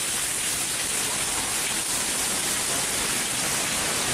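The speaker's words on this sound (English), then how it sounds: "It's raining hard as shit." Heavy rain pours down in Kowloon, Hong Kong, near a pedestrian bridge elevator, a dense, steady hiss of water hitting surfaces that fills the whole moment without pause or voices.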